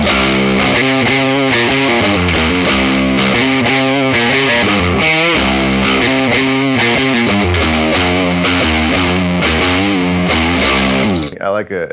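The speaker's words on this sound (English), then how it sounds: "sitting here riffing on a Supro Black Magick." Electric guitar riffs through a Supro Black Magick tube amplifier, a loud, driven and distorted tone playing continuous chugging phrases close up, cutting off near the end.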